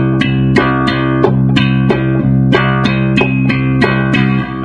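Bass guitar plucking a single repeated note in brisk eighth notes, two evenly spaced attacks per beat, close and loud with sustained low ringing between hits, no other sounds.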